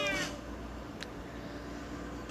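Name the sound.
cat meowing in the video game Cat Hotel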